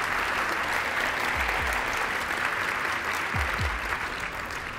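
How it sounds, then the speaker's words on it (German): Audience at a science slam show applauds a presenter, continuous crowd clapping throughout with a few low thumps on stage beneath it. "dein Applaus"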